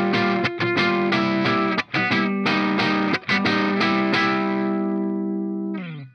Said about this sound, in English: I just use this for like a slightly less gainy distortion.